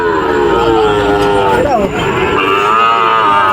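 A Sahiwal cow moos loudly and close at a busy cattle market, one long drawn-out call with a bending pitch over a steady background of crowd murmur.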